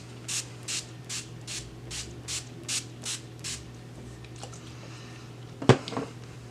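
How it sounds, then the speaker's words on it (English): NYX dewy setting spray being misted across a face, nine short even hissing bursts at a steady rhythm, close and distinct, followed by a brief rustle. "And then spray my whole face."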